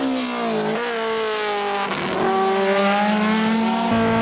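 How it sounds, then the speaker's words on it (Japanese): Tsuchiya's TRD-prepared Toyota AE86 race car testing at Tsukuba circuit on Dunlop tires in 1999: a loud, steady engine drone with strong harmonic whine, its pitch dipping and climbing again as the car works through gears. "さてこちらは筑波で事前テストを行った土屋 TRD 号。"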